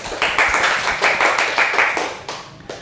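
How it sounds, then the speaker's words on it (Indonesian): A classroom group claps together in several quick bursts of close, sharp applause lasting a few seconds, fading out at the end. "beri tepuk tangan kepada Mas Rafif."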